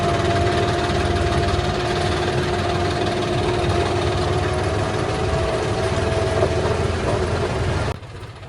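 A tractor's diesel engine idles steadily up close, a continuous chugging rumble with rattling vibration that cuts off near the end.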